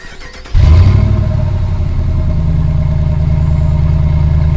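A RAM pickup truck's engine fires up with a push-button start after a moment of quiet, catching abruptly and then settling into a steady, loud idle rumble.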